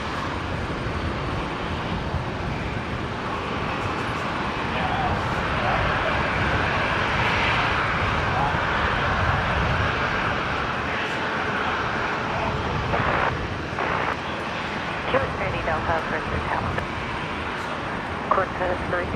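Airliner arriving at Brisbane International Airport, a broad steady engine roar that holds loud and continuous throughout, with faint radio-like voices at times.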